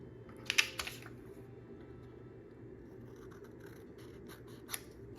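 Scissors snip scrapbook paper in a quiet room, a quick cluster of three or four crisp cuts early on and one more sharp snip near the end over a low background hum.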